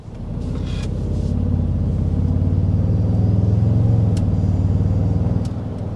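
A 2025 Toyota Sequoia's engine accelerates under light throttle, a steady, deep rumble rising slightly and then easing off, heard from inside the cabin with no talking.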